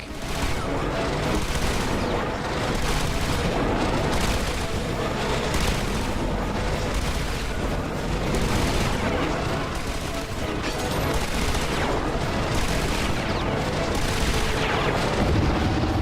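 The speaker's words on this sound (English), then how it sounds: "She's shooting the rock." Continuous gunfire in Ratchet & Clank: Quest for Booty as a character blasts at a rock, loud dense bursts and booms running unbroken for about sixteen seconds.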